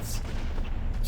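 Sniper rifle shots in Halo: Combat Evolved, heavy booming reports stacked close together in a brief, dense burst of game gunfire with a low rumbling tail.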